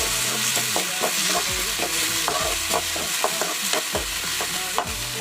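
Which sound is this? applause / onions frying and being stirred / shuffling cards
onions frying and being stirred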